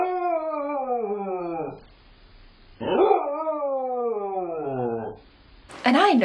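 A dog howls two long, mournful, falling wails separated by a brief gap, close and clear, with a third cry starting at the end.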